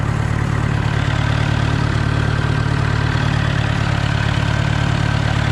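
Engine of an old tractor running at idle, a loud, close, steady low chugging drone with an even throb that continues unchanged.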